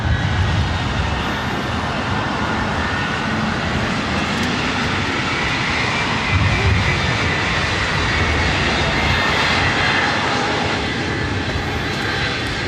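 A Boeing 757-300 jet airliner roars steadily at LAX airport, a loud, continuous broadband engine rumble close by that holds nearly constant throughout.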